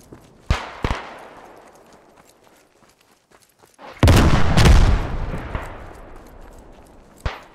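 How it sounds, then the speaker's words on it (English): Sharp gunshots crack out in the trench-warfare game Beyond The Wire, then a heavy booming explosion rumbles and fades, with a few more scattered shots afterward. "Those frickin' explosions are blowing on my eardrums."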